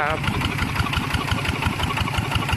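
A Kubota RT140 engine runs with a propeller fitted, a loud close rapid chugging with a steady rhythmic beat.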